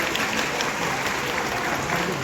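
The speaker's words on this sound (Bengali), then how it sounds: "ওদের জন্য একটা জোর হাততালি হয়ে যাক।" An audience gives loud, sustained applause for young performers after a poetry-and-song presentation, a thick, even wash of clapping with no pause.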